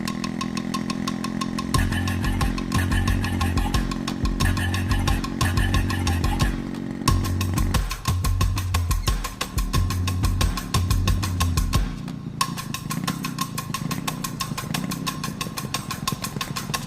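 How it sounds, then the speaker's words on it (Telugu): A broken-down motorcycle's engine runs steadily up close, a rough, continuous putter with rhythmic pulsing low notes that shift partway through, with no voices over it. "బైక్ పాడైపోయినది బాబు, చేయించేదానికి పోతాండా"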